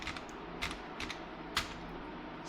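Typing a short word into a PC search box on a computer keyboard, a few spaced, muffled key taps over a steady low background hum.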